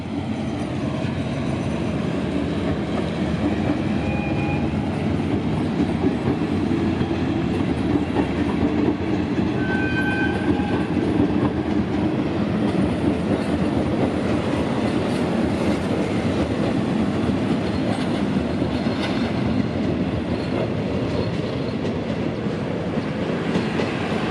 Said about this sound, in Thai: ขณะนี้ก็มีรถ วิ่งผ่าน สถานีบางซื่อครับ